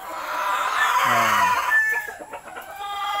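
Gamefowl roosters on a farm raising fighting cocks and stags crow loudly nearby, a drawn-out crow followed by clucking and other crowing in the background, with no talk.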